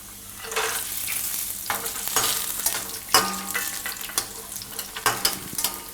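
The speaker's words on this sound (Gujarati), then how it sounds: "થોડાક કાજુને એમાં શેકાવા દે." Cashews roasting in hot oil with reddened garlic, a busy crackling sizzle broken by repeated stirring scrapes and clinks of a spoon against the pan, close and fairly loud throughout.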